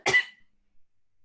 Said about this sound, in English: I just have a residual cough.